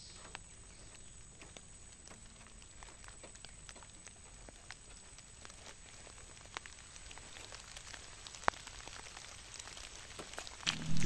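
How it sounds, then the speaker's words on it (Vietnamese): Rain falls on a rural trapping site, a steady, faint patter of scattered drops that thickens slightly toward the end. "Rồi mưa tới luôn cả nhà ơi, giọt lẻ mới được."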